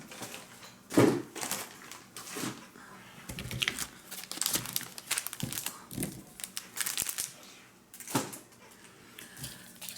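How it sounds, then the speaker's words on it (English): Items are pushed and stuffed into a crinkly paper envelope up close, giving a busy stream of rustling, crumpling and crackling bursts with occasional louder crunches and brief pauses. "I'm gonna try to fit some more items in the envelope if possible"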